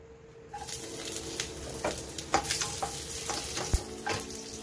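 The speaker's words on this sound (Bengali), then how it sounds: "আমি বাটার দিয়ে দিয়েছি, এবার দেবো রসুন" Garlic hitting melted butter in a pan, a steady sizzle with brief spatters and stirring clicks, fairly close and moderate in level, no voices.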